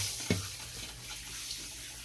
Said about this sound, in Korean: 샤워기 물 잘 나오고